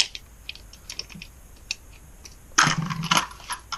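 Metal bolts clink and tick as they go into the case cover holes of a 2009 Kawasaki ZX-10R engine, scattered light taps followed by a louder cluster of rattling metal near the end.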